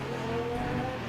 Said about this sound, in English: the engine roars into life